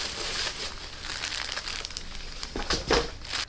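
A plastic bag crinkles and rustles close by in short, uneven bursts, getting louder and busier toward the end.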